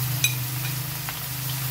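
Chicken stirred and cooked in a pan for egg noodles, giving a soft steady sizzle with a low constant hum beneath and a few faint scrapes and clinks from stirring, with no talking.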